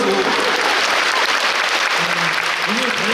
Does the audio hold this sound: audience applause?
yes